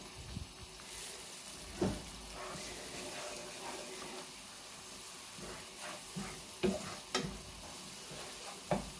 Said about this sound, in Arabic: هنا الاخوات ديالي غادي نقليو هادشي مزيان، هذا الفلفل مع قلبوا شويه